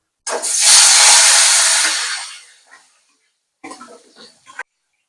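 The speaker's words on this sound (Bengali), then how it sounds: "এবার মাছের মাথাগুলো ভেজে নেব।" Fish heads drop into hot mustard oil in a wok and set off a loud, broad hiss of frying that fades over a couple of seconds, followed by a shorter second burst of sizzling.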